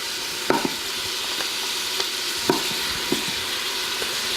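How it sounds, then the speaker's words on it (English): Garlic cloves, eight of them, sizzle steadily in a pot on the stove. A constant close crackling hiss runs alone throughout, broken by a few soft knocks and scrapes of stirring. "Now we'll add the garlic,"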